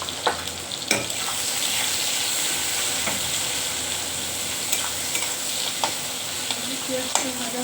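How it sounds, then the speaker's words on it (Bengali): Chopped onion frying in hot oil, a steady sizzle and hiss throughout with occasional scrapes of stirring against the pan. "পেঁয়াজটা ভাজা হোক ততক্ষণে।"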